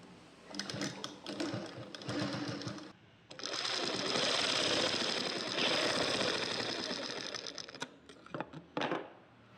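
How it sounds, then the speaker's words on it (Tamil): Sewing machine stitching the hook strip on a 34-inch blouse, with close, loud whirring bursts of rapid needle clatter, a short run, a pause, then a longer continuous stretch before stopping. "இதுக்கப்புறமா நம்ம ஸ்டிச்சஸ் போட்டுக்கலாம்."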